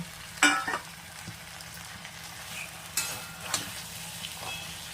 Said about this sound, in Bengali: তো এখন এই সব মাথা দিয়ে এখন মাছের একটু নাড়াচাড়া করব।